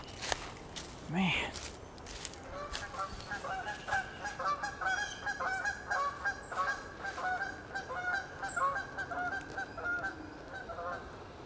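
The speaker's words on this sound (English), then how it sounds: "I saw some geese try to land before and our two geese scares them off every time" A flock of geese honking repeatedly nearby, overlapping calls going on and on, with footsteps and some rustling at the start.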